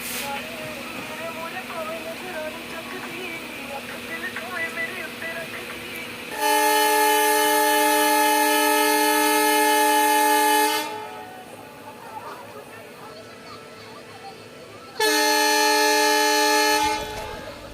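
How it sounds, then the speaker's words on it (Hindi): Gour Link Express passenger train pulling out of Balurghat station in the evening, a loud sustained horn blast sounding twice with a pause between, over steady rumbling rail noise and a brief spoken voice near the start. "हमारा ट्रेन बालूघाट स्टेशन से राइट टाइम पे खुल चुका है"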